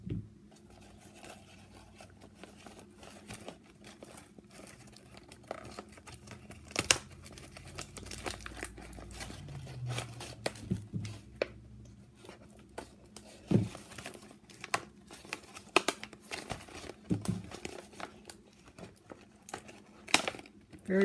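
Scissors snip and crinkle through a plastic packaging bag holding a glass ornament and small craft items. The sound is faint, a sparse series of close crackles and rustles.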